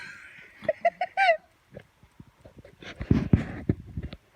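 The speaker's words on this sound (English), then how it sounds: "There's a rooster and a chicken over here." A rooster and a hen at a farmyard stop cluck close by in a quick run of four or five sharp calls, followed by scuffling and handling noises.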